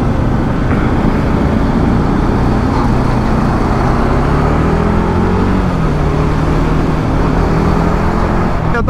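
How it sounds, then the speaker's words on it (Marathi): Heavy trucks and buses grind along the Kasara ghat highway climbing past the Ashoka waterfall turn, a steady loud rumble of engines and road noise with shifting gear tones throughout, no voices. "हा थोडंसं मोठ्या गाड्यांचं ट्रॅफिक नेहमीप्रमाणे आहे."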